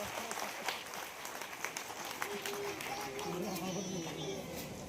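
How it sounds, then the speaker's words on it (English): A school audience applauds students after a 100-question feat, a broad wash of clapping mixed with children's chatter and voices throughout. "Please give a round of applause for the students."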